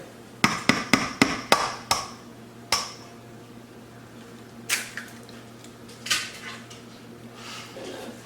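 An egg knocked several times in quick succession against a bowl of flour for fish batter, giving sharp close taps followed by a few softer scrapes and clinks, with no talking.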